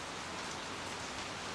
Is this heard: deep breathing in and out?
no